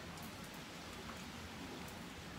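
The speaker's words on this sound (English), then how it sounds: "it's been raining for about 2 hours and it's getting progressively harder." Steady, dense rain falls during a storm and keeps up a constant hiss with scattered drop patters. It is fairly soft and even throughout, with no voices.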